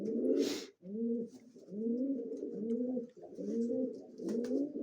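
Crested white pigeons coo while sitting on eggs: repeated low, rolling coos follow one another closely and almost continuously, with a brief soft rustle near the start.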